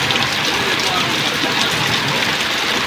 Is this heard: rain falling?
yes